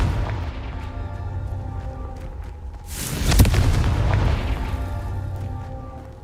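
A loud booming blast from the Confringo fire spell in Hogwarts Legacy bursts out at about the midpoint over steady game ambience, then rumbles and fades gradually.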